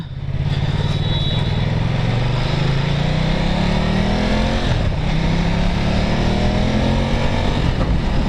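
A Ducati Multistrada 950 motorcycle engine hums close and loud while riding, its pitch rising steadily as the bike accelerates through the gears, with continuous road and wind noise and no talking.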